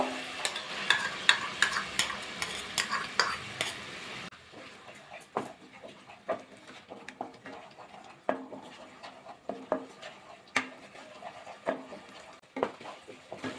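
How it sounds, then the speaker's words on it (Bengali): Ground paste of poppy seed, coconut, mustard and green chilli being stirred and sautéed in a pan on low heat, with a soft sizzle and repeated scraping, clattering knocks of a spatula against the pan. "আর ভালো করে কষিয়ে নেব।"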